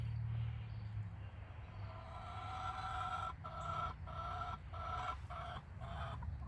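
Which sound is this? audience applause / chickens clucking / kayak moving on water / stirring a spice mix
chickens clucking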